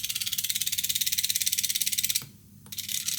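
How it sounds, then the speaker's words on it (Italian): Rapid, evenly spaced electrical clicking pulses from an air-conditioner expansion valve coil driven at higher voltage tick along steadily, pause for a moment, then resume at the same fast rhythm. "Sentite come si sentono gli impulsi più corposi,"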